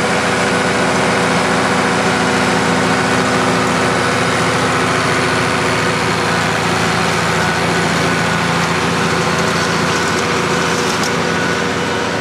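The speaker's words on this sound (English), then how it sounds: "we take a brief look at them baling past midnight" A tractor and baler work hay late at night past midnight, the engine droning loud and constant with a steady low hum and mechanical clatter throughout, no voices.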